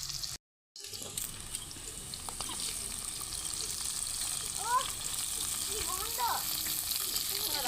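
Tomato added to capsicum frying in a pan for pasta, a steady close sizzle with some stirring, after a brief dropout at the start.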